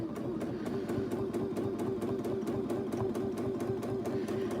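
A sewing machine free-motion quilts around an applique, its needle thumping in a fast, perfectly even rhythm over a steady motor whine, close and moderately quiet with no speech.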